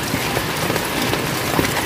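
Rainwater runs from a DIY rainwater collection setup as a continuous close patter and splash of falling water, even and steady with no voices.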